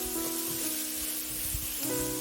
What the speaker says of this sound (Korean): 그리고 햄을 넣고 볶고